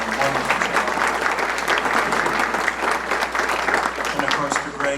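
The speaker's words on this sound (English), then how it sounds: "Let's give them a nice round of applause." Steady applause from a community forum audience fills the whole stretch, dense and continuous clapping without pauses.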